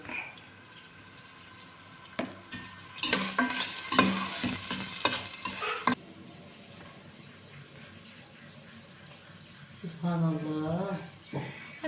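Okra sizzles and is stirred in a pan over low heat with scraping and clattering bursts; a voice talks quietly at times.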